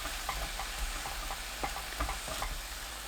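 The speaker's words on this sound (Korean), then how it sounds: "고운 소금 3분의 1큰술 넣고 센 불로 2분 볶아주세요" Brussels sprouts stir-frying in butter over high heat with fine salt, a steady loud sizzle with light scraping and stirring clicks in the pan, and no voices.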